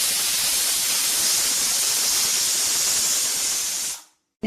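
A pressure cooker cooking jackfruit lets out a loud, continuous hiss of escaping steam. The hiss is close and unbroken for about four seconds, then cuts off sharply, with no speech over it.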